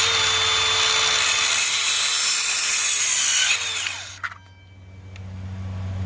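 A DeWalt 20V Atomic 4 1/2 inch cordless circular saw cuts through a wooden 2x4, a loud whining cut lasting several seconds before the blade exits and the motor spins down.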